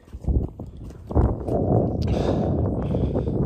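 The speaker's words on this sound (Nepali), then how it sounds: "बवाल हावा चलिरहेछ माथि चाहिँ" Strong, gusty wind on a hilltop at Sailung, Dolakha, roars and buffets the microphone in a deep, continuous rumble that swells after the first second and keeps blowing.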